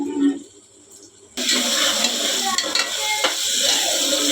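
Onion frying in a pan for a home-style prawn curry, a steady broadband sizzle and crackle that starts abruptly after a quieter opening and continues loud and close to the end.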